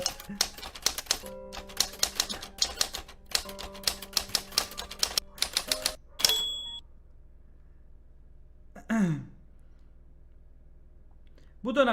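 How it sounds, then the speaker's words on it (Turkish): Rapid typewriter keystrokes clatter in bursts, followed by a bell ding, a carriage return, then near silence with a brief swoosh. "İlk videoyu almış bir de daktilo sesi yazınca"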